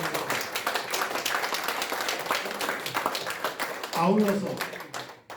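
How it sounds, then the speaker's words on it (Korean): Audience applause at an opening ceremony for a Syngman Rhee VR memorial hall in Korea, a steady dense clapping that runs for about four seconds before a voice speaks over its fading end. "다시 한번 우리 손병두 선생에게 크게 수고하셨다는 응원의 박수를 보내주시기 바랍니다."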